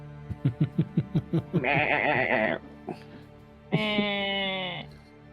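A person imitates a goat with the voice: a quick run of about eight short rhythmic bleats, then two long, wavering, nasal bleats, close and loud, with no real animal present.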